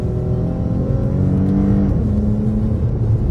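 A 2022 Dodge Challenger GT with its V6 in sport mode accelerates, a loud steady engine drone rising in pitch, dipping briefly at a shift, then climbing again from inside the cabin with no talk.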